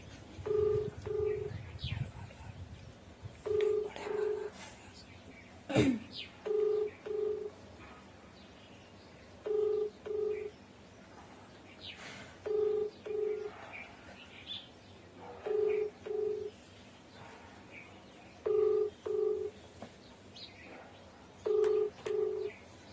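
Repeated paired beeps of a phone call ringing out, steady and evenly spaced over a quiet room, with a brief louder click partway through and faint bird chirps in the background.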